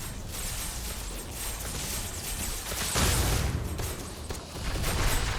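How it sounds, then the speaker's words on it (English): An explosion in the survival horror game Night of the Dead sounds as a sustained, loud, broadband roar, surging sharply around the middle and rumbling on to the end with no voices. "Okay, I definitely caused an explosion there."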